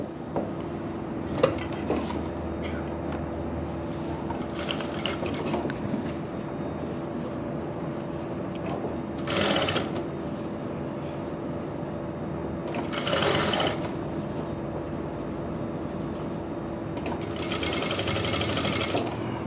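A sewing machine stitches a sleeve and front garment piece together, a steady close whirring that runs for most of the stretch, with brief louder bursts of fabric handling in between.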